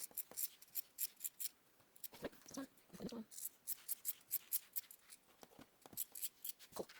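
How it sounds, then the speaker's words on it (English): Scissors cut out a fabric neckline facing piece with a close, rhythmic series of crisp snips that run almost continuously, while a person speaks briefly in between. "now what you're going to do is cut this out, and that will be what you'll be using for your facing"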